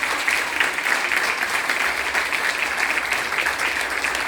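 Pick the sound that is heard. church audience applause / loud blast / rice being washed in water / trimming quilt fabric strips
church audience applause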